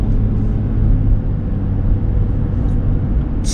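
A car drives along Manunka Road near Buttzville, New Jersey, giving a steady, even low road rumble from inside the cabin while someone speaks over it.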